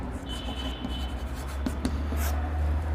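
Chalk or marker scratches and taps across a classroom board in short strokes, close but soft, over a low steady background hum.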